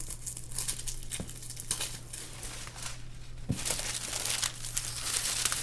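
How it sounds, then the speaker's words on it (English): Tracing paper crinkles and tears as it is unwrapped from a Fear of God x Adidas Basketball 1 sneaker box, a close, steady rustling with two sharper snaps partway through. "now this box has been wrapped in some sort of tracing paper"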